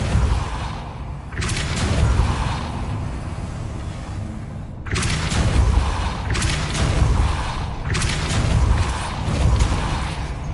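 Depulso spell effects cast in Hogwarts Legacy: several forceful whooshing blasts with booming low ends, repeating in bursts over a steady rumbling background. No talk.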